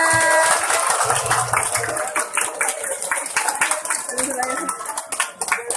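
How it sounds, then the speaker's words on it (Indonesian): Students at a school student council election event in Cilacap clap in rhythmic, fairly close bursts while voices shout and cheer over the clapping. "Tepuk tangan semuanya."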